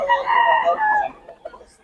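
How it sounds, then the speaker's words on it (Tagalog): A rooster crows nearby, a loud drawn-out call lasting about a second, followed by softer clucking and faint background chatter. "Gulo nitong manok."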